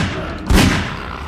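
A single heavy gunshot booms close and loud in the video game Half-Life 2, with a dull thud that fades into a lingering rumble.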